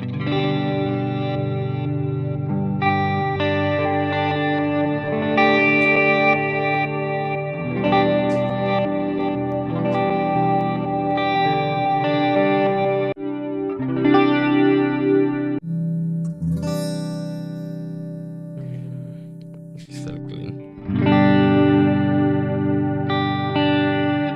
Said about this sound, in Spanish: logré hacer unas reverbs bastante, bastante exageradas